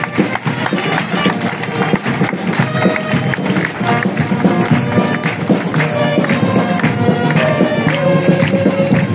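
A church congregation at a farewell service for a reverend pastor claps and acclaims, loud sustained applause mixed with cheering voices and crowd noise throughout.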